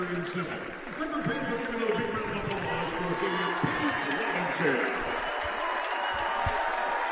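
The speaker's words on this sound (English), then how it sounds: "you can hear the fans from around us currently cheering on in the center of the floor" Fans fill a basketball arena with sustained cheering and clapping during senior night at a women's college game, a broad, continuous crowd roar with voices mixed in throughout.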